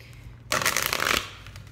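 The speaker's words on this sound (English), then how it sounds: "Let's get an oracle. Let me shuffle these." An oracle card deck is shuffled once, a short, soft riffle of cards lasting under a second, close by in a quiet room.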